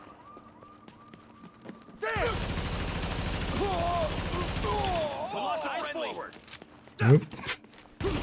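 A video game shotgun goes off right beside the player, a loud, harsh, crackling barrage lasting about three seconds, with someone talking briefly before and after it.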